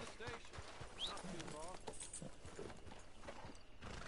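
Horse hooves clip-clop at a steady walking pace in Red Dead Online, mixed with continuous game ambience and a voice talking over them.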